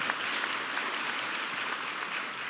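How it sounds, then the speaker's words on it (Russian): Hall full of delegates applauding at the opening of a women's congress of the North, a uniform, sustained roar of clapping heard alone with no talk. "поаплодируем"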